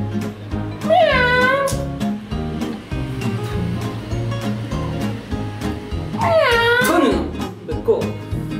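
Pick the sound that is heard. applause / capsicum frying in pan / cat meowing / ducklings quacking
cat meowing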